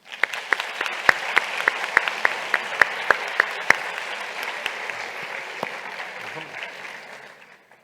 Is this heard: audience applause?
yes